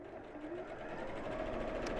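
A domestic sewing machine runs steadily, stitching fabric binding where the ends overlap, with a close, continuous whirring hum and a fast even rhythm throughout, no speech.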